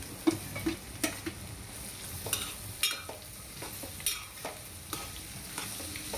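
Potato and carrot pieces fry in a pan. Close, irregular scraping stir strokes sound over a soft, steady sizzle, with no talking.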